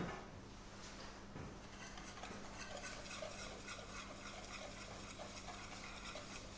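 A whisk scrapes and clicks rhythmically against a bowl while socca batter of chickpea flour is beaten, a quiet, close, continuous stirring with light metallic taps and no talking.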